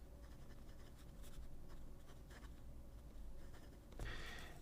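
A fine steel Jinhao number 5 fountain pen nib writes on paper, giving faint, close scratching strokes in short irregular bursts, quiet and alone.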